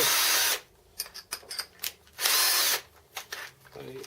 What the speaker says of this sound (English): 1/2 inch 12mm drill will gently clean it up